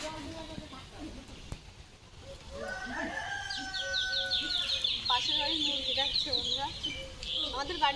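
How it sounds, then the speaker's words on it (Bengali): Backyard chickens next door cluck loudly and steadily, with rooster-like crowing calls rising above them. A voice talks faintly in the background. "ওদের মুরগি এত জোরে জোরে ডাকে"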